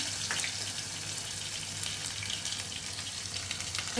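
Cumin seeds sizzling in hot oil for dal khichdi, a steady, soft, even crackle and hiss that runs the whole time with no voices.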